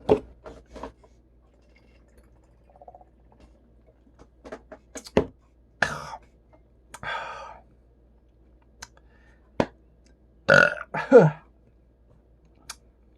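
Burps after drinking PBR beer, about a dozen short bursts spread across a quiet stretch with pauses between, some louder and longer, a few small and clipped.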